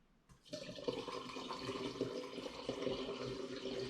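Ginger hard cider pours steadily into a vessel after a brief quiet start, a close, continuous splashing gush of liquid.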